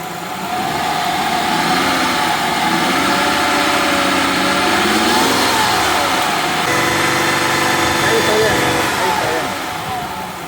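A Mazda MPV 3.0 minivan that loses power and will not accelerate idles steadily up close, with a slight swell in engine note partway through, while someone talks over it.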